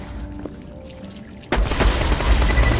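Fire-element gunfire in Borderlands 2 erupts as a sudden loud burst of overlapping shots midway through, following a quieter stretch of ambient game noise, and continues densely to the end.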